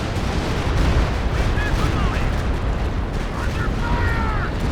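A Stuka dive bomber attacks ground positions in the Company of Heroes 2 video game, with booming explosions and rumbling battle noise beneath a caster's continuous commentary.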